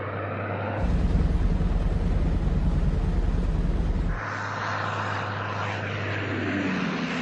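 A Fokker Dr.I triplane of the First World War, with its rotary engine, drones steadily in flight. The roar is loud and continuous and swells in the middle before easing back to a steady, slightly quieter hum.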